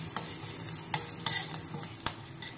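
Sliced coconut sautés quietly in a pan, a soft steady sizzle punctuated by a few sharp scrapes and clicks of the stirring spoon, with no talking.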